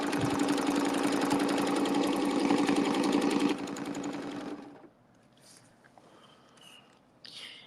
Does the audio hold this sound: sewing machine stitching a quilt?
yes